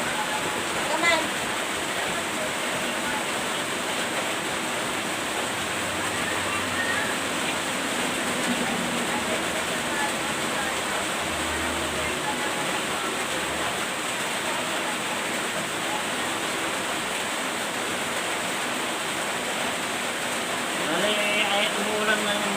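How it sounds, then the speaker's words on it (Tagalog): Steady rain falls at night as a soft, even hiss, with faint voices and a few low thumps in the background. "umuulan na yun guys"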